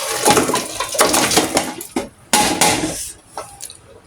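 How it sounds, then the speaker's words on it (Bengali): Nihari is poured from a pot into a pressure cooker, with close metallic clatter and a splashing rush in two main bursts, then a few lighter knocks of metal. "এখন আমি এটা প্রেশার কুকারে ঢেলে দিব"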